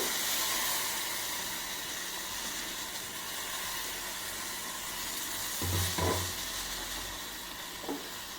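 Ground coconut paste for pachadi heats in a pan with a steady, soft sizzle and hiss, broken near the end by a short burst of stirring clatter.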